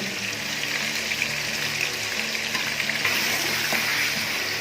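Chicken frying in a karahi for green chicken karahi, producing a loud, steady bubbling sizzle with a busy crackle that continues without pause.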